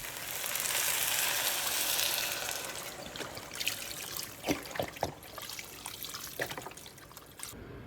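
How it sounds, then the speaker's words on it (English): Water poured into a pot of turkey, sweet potato and kale soup, a steady close splashing rush that fades into scattered drips and sloshes, with no talking. "I'm going to go ahead and add to this 2 cups of water"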